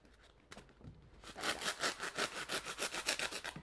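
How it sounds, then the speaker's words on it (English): A serrated knife sawing through a foam pool noodle: a faint first stroke, then quick, rhythmic back-and-forth rasping strokes, close and fairly loud, with no talking. "I'm just going to serrated knife it down all the way through, like bread"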